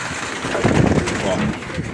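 Pigeons at a dovecote coo softly in low, burbling calls beneath a steady rushing background, close by and fairly continuous.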